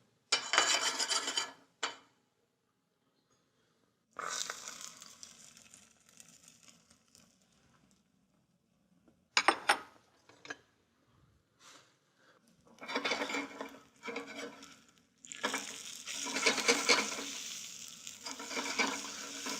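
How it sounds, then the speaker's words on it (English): A thin omelet cooks in a hot non-stick pan: soft scraping and stirring of a utensil against the pan in irregular bursts, with a faint sizzle between gaps of near silence, and no one speaking. "I've got a pan hot. I want to make a thin omelet."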